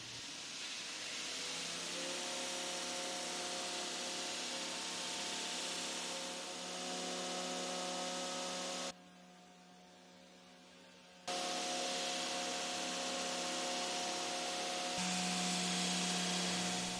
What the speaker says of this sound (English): I'll grind the bevels in freehand